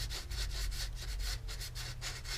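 Sandpaper is rocked back and forth over a seam on a plastic model aircraft nacelle, giving a rapid, rhythmic scratching rasp, close and alone.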